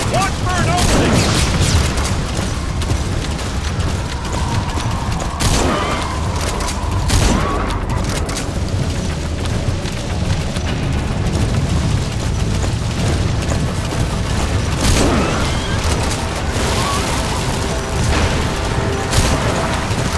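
Gunfire in Metal Gear Solid V: The Phantom Pain rattles amid booms and mechanical clanks, a loud dense battle mix with shouted voices over it.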